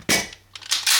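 A Dan Wesson ECP 1911 in .45 ACP, with its slide locking back on an empty 10-round magazine, produces two sharp metallic clacks close by, loud and brief, with a short gap between them.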